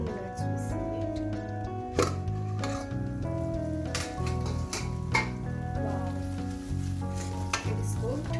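Fried rice sizzles and fries steadily in a pan, a loud continuous crackle with occasional stirring scrapes throughout, no voices.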